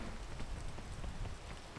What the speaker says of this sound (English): I'll just wait a little bit longer until the rain's done